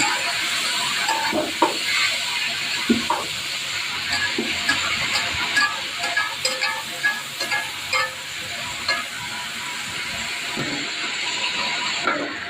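Green beans and potatoes frying in a pan, a continuous bright sizzling hiss with scattered scraping and clinking taps from stirring, close and fairly loud throughout without any talking.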